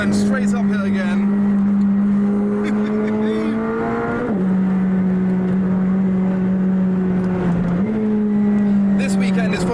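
A McLaren drives the Nurburgring circuit, its engine droning steadily from inside the car with two brief dips as gears change, and a voice talks over it.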